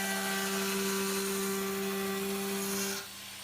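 Power tool rounding over the edges of an acoustic guitar body, a steady high-pitched whine with a strong tonal hum that runs continuously for about three seconds, then cuts off, leaving quiet background.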